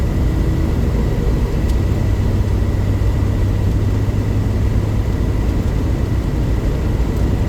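A Daihatsu Atrai with a turbocharged three-cylinder engine grumbles while cruising, a steady low drone heard from inside the cabin, with constant road and wind rumble and no voices.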